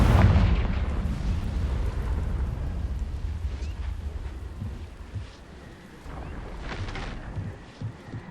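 The Confringo fire spell in the Hogwarts Legacy video game explodes with a loud, deep boom that rolls into a long rumbling tail, followed by a second smaller burst near the end.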